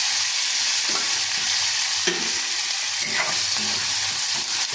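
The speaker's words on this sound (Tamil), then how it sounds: "நல்லா மிக்ஸ் பண்ணி விடுங்க." Onion, garlic and curry leaves fry in hot oil for a fish curry, a steady close sizzle broken by a few scraping stirs of a spoon through the pan. No talking is heard.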